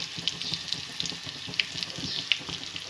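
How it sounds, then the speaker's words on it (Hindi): Onions sautéing in a pan with turmeric and red chili powder for egg curry, a steady soft sizzle with light clicks of stirring, fairly quiet and continuous. "हमारे प्याज अच्छे से सौते हो चुके हैं, नरम हो चुके हैं।"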